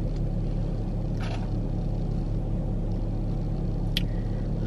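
A low, steady engine rumble and road noise heard from inside a moving car on the drive back to a hotel, constant and fairly loud with no one talking.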